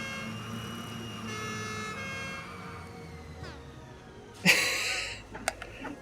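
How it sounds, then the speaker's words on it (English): Vehicle horn siren in the video game Satisfactory, a tonal wailing siren heard at moderate level that fades out, followed by a brief louder burst of mechanical clatter and a couple of sharp clicks. "Yes, the horn. The horn is fantastic. You just reach out and attach that little siren to the top."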